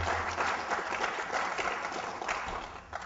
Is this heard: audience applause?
yes